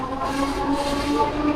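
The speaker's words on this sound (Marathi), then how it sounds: "आपली ट्रेन पण आली." Local commuter train pulling into a suburban railway platform, a steady close rumble and rolling wheel noise with a faint hiss and tonal hum, continuous and fairly loud throughout.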